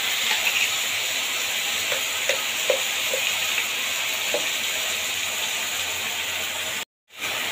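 Cumin and green chili paste frying in hot oil, a steady close sizzle and hiss with a few soft clicks of stirring, briefly cut off near the end.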